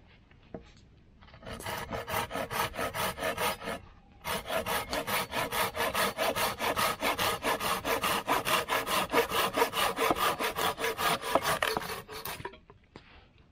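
Silky Big Boy folding saw cutting through wood at a cold campsite, fast rhythmic rasping strokes close up, a short run then a pause and a long steady series of loud pull strokes.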